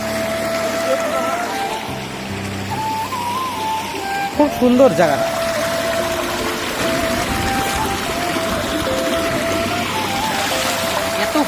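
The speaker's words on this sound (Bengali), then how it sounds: "ঝর্ণার জল" Water from a hill-stream waterfall at a Dooars picnic spot rushes and trickles steadily nearby while people talk over it throughout.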